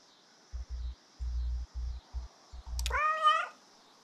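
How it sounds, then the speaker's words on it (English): A cat meowing in the video game Kentucky Route Zero: one clear, close meow rising and falling near the end, after a few soft low thumps from the game. "So there is more interaction in respect of meowing at people."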